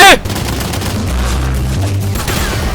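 Gunfire in the Garry's Mod multiplayer game opens with a loud, sharp burst, then a dense, steady rumble of shooting continues underneath.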